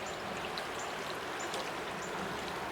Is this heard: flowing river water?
yes